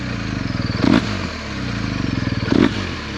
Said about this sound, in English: Now we're going to give it a little bit of a rev.